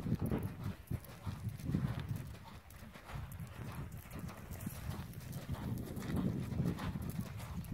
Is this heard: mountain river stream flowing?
no